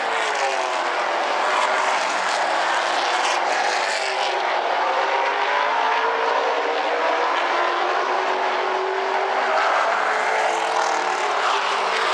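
Super late model race cars thunder past across the finish line in a 100-lap A-main at a speedway, a loud, steady, sustained roar of engines that swells and shifts as the cars pass close by.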